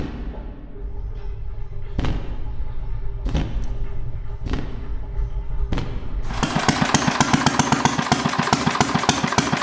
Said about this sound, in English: if they would dare to run the engine on gasoline for me